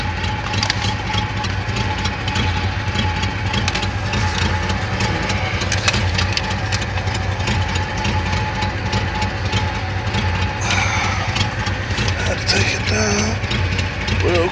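A Chevrolet Monte Carlo engine idles steadily after a cold first start of spring, a loud, even low rumble held close to the microphone for the whole stretch, with faint mechanical clatter and brief background voices near the end.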